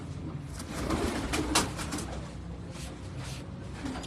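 Pigeons on a Karachi rooftop, low soft cooing repeating steadily under a constant background hiss, with faint rustles now and then.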